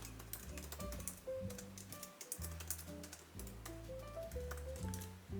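An event title is entered in a Notion planner with soft, irregular tapping and clicking of keys, faint and close, over a quiet backdrop of gentle background music.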